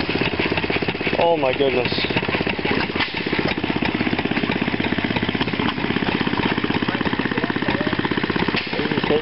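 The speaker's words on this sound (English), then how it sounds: "that's the four-cylinder Briggs over there" An antique four-cylinder Briggs & Stratton engine runs at an outdoor antique show, throbbing loudly and steadily with a rapid, even chugging pulse throughout, while a voice exclaims briefly over it.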